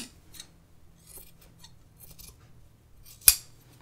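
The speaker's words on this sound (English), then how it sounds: "The tips of these scissors are getting frustratingly dull." Scissors with dull tips clip into the fabric seam allowance at a shirt dress neckline: faint rustling and small ticks, then one sharp, crisp snip near the end.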